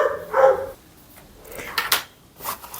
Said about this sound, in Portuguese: que é o cachorro do vizinho